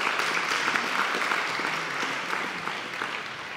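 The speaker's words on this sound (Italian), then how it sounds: "Qua ci voleva l'applauso a Rosa." An audience at an Italian crime-fiction book event applauds warmly, a dense, steady wash of clapping that fades slightly toward the end.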